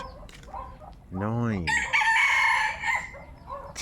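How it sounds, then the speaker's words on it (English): Roosters crow loudly from nearby in a Philippine neighborhood, one long rising cock-a-doodle-doo followed by a second overlapping crow and some clucking, while a man counts aloud and speaks briefly. "have decided that they are going to pack the area with roosters"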